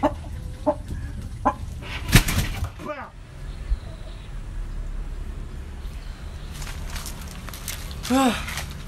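Chickens clucking intermittently nearby amid outdoor background noise, with a few sharp calls and scattered footsteps, people talking now and then, near rice plants.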